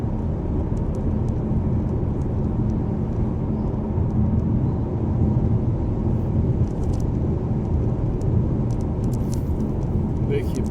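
A car that is not four-wheel drive drives along a mountain road in Nepal, giving a steady low engine and road rumble that fills the whole stretch, with faint voices under it.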